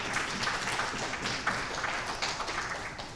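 Audience applause at the @party 2015 demoscene prizegiving ceremony, a steady crowd of many hands clapping, moderately loud and fairly distant, continuous throughout without talk.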